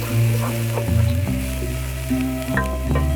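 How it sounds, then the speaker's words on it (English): Vegetables sauté loudly and steadily in a pan with oregano, basil and bay leaves for a dairy-free Bolognese, a continuous sizzle broken by soft stirring and scraping sounds. "I'm gonna add these to the sauteing vegetables"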